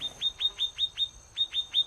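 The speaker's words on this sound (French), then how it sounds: "Là, on a un oiseau de la Vierge, un petit mâle, du coup, qui nous regarde et qui est assez curieux" A small male Réunion paradise flycatcher on the slopes of Piton d'Anchaing, Réunion, gives a series of about nine sharp, high chirps in a steady rhythm, close and clear with a brief gap midway, over quiet forest background.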